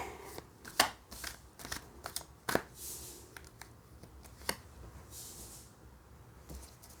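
Tarot cards shuffled by hand at close range, a string of quick papery riffles and slaps with uneven gaps, loud bursts over a quiet background and no talk.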